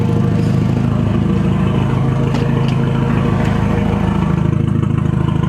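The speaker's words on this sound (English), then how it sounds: "Shall we give it a rev? There's no exhaust on it," A 1.8 turbo engine swapped into an MK2 Golf GTI runs with no exhaust fitted, straight out of the downpipe, giving a loud, steady, lumpy drone with slight rises in pitch.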